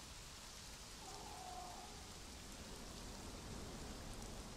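Steady hiss of rainfall in the video game Conan Exiles, an even wash of falling rain with no distinct drops or thunder, fairly quiet and with no talking.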